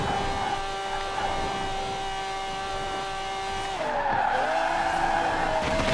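Ferrari 599 XX Evo in Forza Horizon 4: a loud, sustained engine drone with steady harmonics, then a sharp shift near the end as tires squeal and skid, the pitch dipping and rising again.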